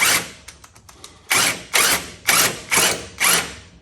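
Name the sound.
impact wrench tightening battery box bolts on truck frame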